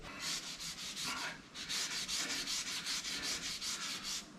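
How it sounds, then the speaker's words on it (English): Rhythmic scrubbing on the floor of a shuttle bus, close and steady repeated strokes with a brief pause near the start, no talking. "I feel like Cinderella scrubbing the floors"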